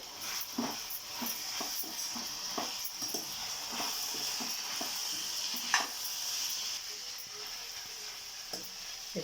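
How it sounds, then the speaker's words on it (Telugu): A spoon stirs capsicum and peas curry seasoned with coriander powder in a pan, giving a steady close sizzle broken by soft scraping and light clinks throughout. "ఒకసారి మళ్ళీ కలుపుకొని"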